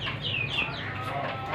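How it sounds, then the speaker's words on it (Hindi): Hens clucking while they peck at grain, a steady soft chorus of close clucks with a couple of higher squawking calls rising above it over a constant background hum. "मुर्गियाँ दाना खा रही हैं काफ़ी टाइम बाद"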